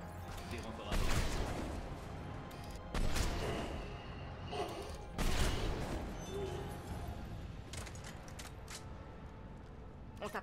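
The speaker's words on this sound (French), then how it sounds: "Il faut arrêter ces canons." Cannon fire at Omega station in the video game Mass Effect 3 booms in three heavy, rumbling blasts spaced a couple of seconds apart, each decaying into a lingering rumble, with quieter impacts following.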